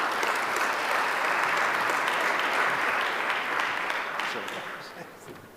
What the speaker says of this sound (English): Please give Professor Alex a big round of applause.